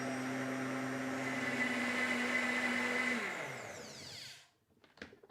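A JTC OmniBlend high-speed blender whirs loudly at full speed with detergent and hot water sloshing inside, then winds down and stops, leaving a few light clicks and knocks at the end; no one speaks.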